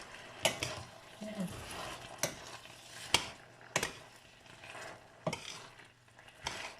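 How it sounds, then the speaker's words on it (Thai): Blanched vegetables are tossed in fragrant oil with the heat switched off, giving sharp spatula and pan knocks at irregular intervals over a soft, quiet sizzle close by. "แล้วเราก็คลุกในน้ำมันหอมเลยนะคะ"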